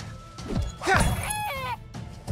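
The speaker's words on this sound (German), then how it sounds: "Ah, der Huhn greift mich an." A chicken in the video game My Time at Sandrock squawks and clucks in agitated bursts, mixed with short hitting sounds as it attacks, fairly close and loud.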